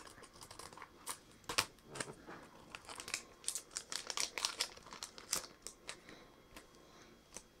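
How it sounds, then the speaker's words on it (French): Close, crisp crinkling and snipping of scissors cutting open a stiff foil Pokémon card booster pack, a run of quick irregular cuts and rustles with no talking. "On va reprendre la paire de ciseaux."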